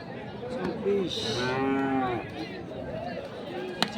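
Bulls at a busy Chittagong cattle market before Qurbani moo in several drawn-out, mid-pitched calls, close and fairly loud over a constant murmur of market noise.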